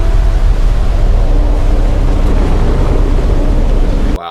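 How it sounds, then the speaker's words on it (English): A large waterfall in an Icelandic-style landscape from the film Prometheus, heard as a loud, steady broadband roar of rushing water that continues unbroken for about four seconds before cutting off abruptly. "that is a sexy beast of a waterfall"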